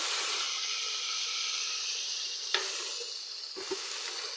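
Mudfish curry sizzles steadily in a pan as it is sautéed over lowered heat, a loud, even frying hiss broken by a couple of brief stirring clicks.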